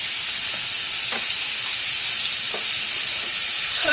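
Green onions and bean sprouts frying in butter in a pan, a steady loud broadband sizzle throughout with a few faint clinks of stirring, no talking.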